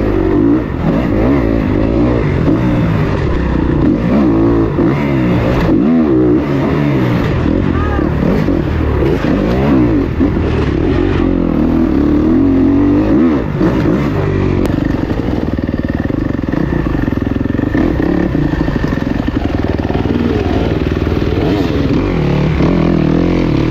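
Motorbike engine running loud and close throughout a ride, a continuous rough drone with shifting revs, wind buffeting mixed in, and a voice faintly underneath.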